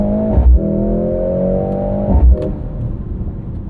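A 2025 Mercedes-AMG GLC 63 S E Performance hybrid with a 2-liter engine accelerating hard, a loud steady engine drone rising in pitch with two brief dips and thumps at gear changes, the pull continuing between shifts.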